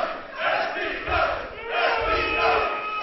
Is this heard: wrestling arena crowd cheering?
yes